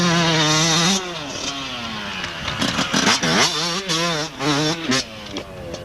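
A 125cc enduro motorcycle at a Beacons Enduro event revs hard and close, then throttles on and off in a series of rising and falling two-stroke buzzes.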